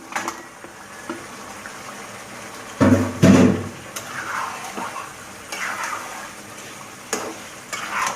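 Masala spice paste for deshi chicken bhuna frying over low heat in a pan: a soft, continuous sizzle broken by scraping stir strokes, with a louder sputtering burst partway through and no talking.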